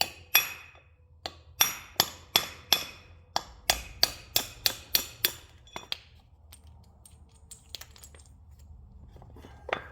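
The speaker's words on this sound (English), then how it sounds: "I'm using a brass hammer, so I'm not damaging anything." A brass hammer strikes metal parts of a utility trailer under rebuild, giving a quick run of about a dozen sharp, ringing taps at a steady pace, close and loud, before it gives way to quiet.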